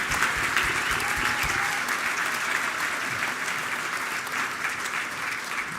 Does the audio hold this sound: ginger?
no